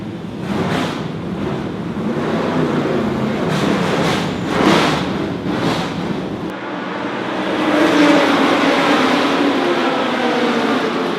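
FIA Historic Masters race cars lapping Silverstone roar past in sweeping engine drones, one car's note rising and fading as another builds, loud and continuous at trackside.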